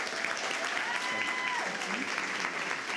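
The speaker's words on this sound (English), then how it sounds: "So let's have a round of applause for Joseph." Fashion show audience applauding after a presenter is thanked, a steady wash of clapping with voices audible over it.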